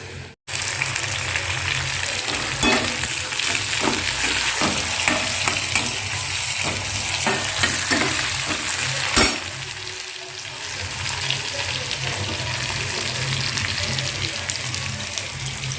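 Chutney ingredients fry in a pan with a steady loud sizzle, broken by the scrape and clatter of stirring, with a brief clunk partway through.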